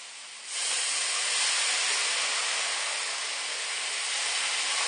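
A loud, steady hiss bursts out as water hits a hot pan of peppers and carrot for a pork stir-fry and turns to steam, continuing unbroken for several seconds.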